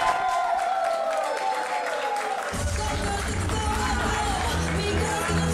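Crowd at an independent women's wrestling show clapping and cheering, a steady roar of applause swelling midway and continuing throughout.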